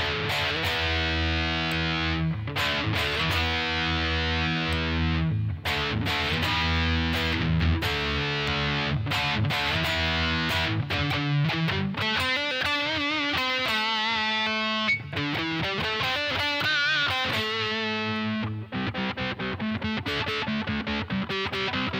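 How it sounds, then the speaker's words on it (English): A DIY kit electric guitar played through heavy distortion in a pickup test, loud and continuous, with dense chords and riffs filling the whole stretch. "let's go ahead and do the pickup test with the distortion"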